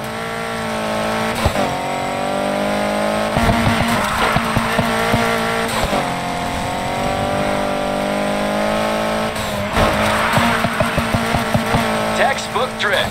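Racing game car drifting: a continuous loud engine drone with sustained tire squeal, revs surging and dipping, and clusters of clicking impacts and skids repeating throughout.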